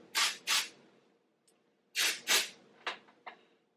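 Several short hissing spray bursts from an IGK Beach Club texture spray aimed at hair, two quick pairs close together, then a few shorter puffs, loud and close with near silence between.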